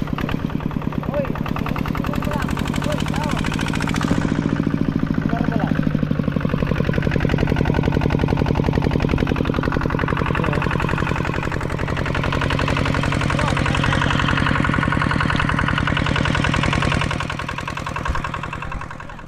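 Two small engines run in a rice field, a loud, rapid, rattling putter that holds steady for the whole stretch with a slight shift in pitch partway through.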